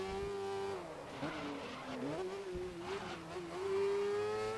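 A Formula 1000 race car in the racing game GRID screams at high revs, the engine pitch wavering and dipping as the tires skid under heavy braking, loud and close with no voices.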